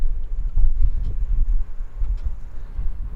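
Wind blows steadily outdoors, a loud low rumbling roar buffeting the microphone with gusty surges throughout.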